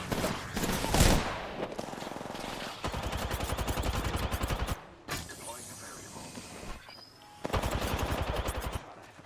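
Automatic weapon fire in the game Apex Legends, several long rapid bursts of close, loud gunshots separated by short pauses, with mechanical clicks and other in-game sounds between them.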